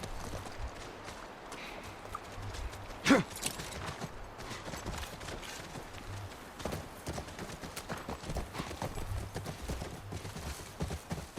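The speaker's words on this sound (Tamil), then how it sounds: "இவனோட குதிரை வந்துருச்சு" A horse's hooves pound along in The Last of Us video game, a fast run of hoofbeats close by with a sharper thud near the start, playing alone without talk.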